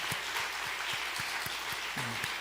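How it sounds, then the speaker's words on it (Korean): Church congregation applauding ordained deacons at a Sunday dedication service, a continuous even patter of clapping heard from a distance, with a few low thumps and a short tonal blip near the end. "한번 여러분들 우리 안수 집사님들 위해서 한번 박수 한번 해주시겠습니다"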